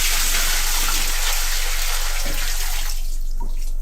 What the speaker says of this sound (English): Throw a bucket of water on them.